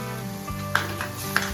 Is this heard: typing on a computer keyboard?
no